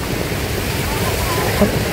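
Steady broadband rush of flowing water on a mountain hiking trail at Zhuzihu, Yangmingshan, Taipei, like a nearby stream or small waterfall, continuous throughout with no clear breaks.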